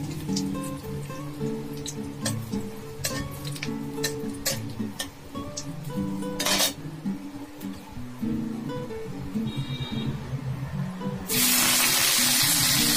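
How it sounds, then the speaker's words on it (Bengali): Black cumin and dried red chillies temper in hot oil in a heated pan for a red amaranth leaf fry. Scattered close crackles and ticks pop steadily, then a loud, continuous sizzling hiss takes over near the end. "তেলের মধ্যে একটু কালো জিরে ফোড়ন দিয়ে দিলাম, শুকনো লঙ্কা ফোড়ন দিলাম।"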